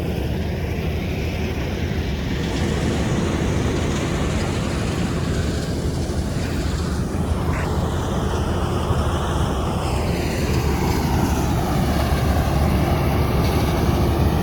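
Loud, steady roar of a combine harvester harvesting 1509 basmati paddy close by, a heavy continuous engine drone with shifting mechanical whine.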